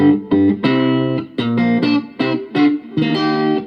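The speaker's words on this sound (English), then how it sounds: "Now I'm going to turn the tone all the way up, low, mid, and high." Electric guitar played through a Roland Cube 10GX amp with low, mid and high tone controls all turned up, ringing out a series of loud, sustained chords and notes with short gaps between strums, alone.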